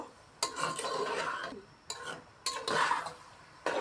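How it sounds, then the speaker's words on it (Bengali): Pre-boiled figs are stirred and sautéed in a pan, with repeated clanking scrapes of a spatula against metal over a light sizzle, coming in separate bursts. "এখন আমি দিয়ে দিচ্ছি এর সঙ্গে আগে থেকে সিদ্ধ করে রাখা ডুমুর সুন্দরভাবে একটু কষিয়ে নেব"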